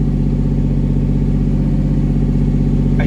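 A 1999 Lamborghini Diablo Roadster idles steadily, its engine rumbling loud and close with a deep, even drone throughout and no voices.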